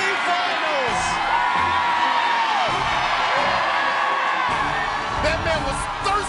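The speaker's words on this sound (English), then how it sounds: "The crowd is going nuts, man. They're going nuts." A crowd at the American Ninja Warrior Daytona Beach city finals cheers wildly, with whoops, yells and shouts forming a loud continuous roar. An excited voice calls out over the noise.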